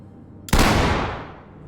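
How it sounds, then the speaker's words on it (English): A single loud, sharp gunshot from the tactical shooter game Ready or Not cracks out suddenly, then its boom decays over about a second. "The gunshots are loud and jarring, almost making you not want to pull the trigger."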